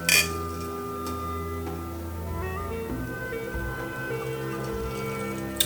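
Cocktail glasses touch in a toast over a home-made Disney Sea Butterfly cocktail, giving one bright clink at the start that rings on as a faint sustained tone, with no talk over it.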